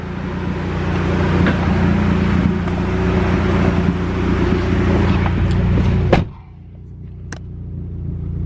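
Turbocharged Honda Civic GSR with a swapped B18C engine revving hard on a dyno pull, a loud sustained engine roar holding steady for about six seconds before cutting sharply back to a quieter idle.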